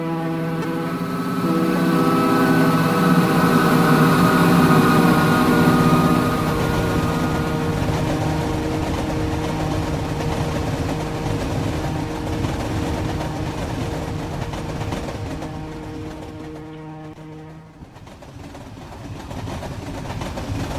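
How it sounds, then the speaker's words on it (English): A model railroad train, RO-scale, emerges from a tunnel with a steady humming motor drone that swells and then fades, with no talking. "The train came out of the tunnel and probably it makes its way."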